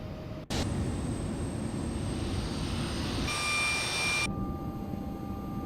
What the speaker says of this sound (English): Let's shut down our engines.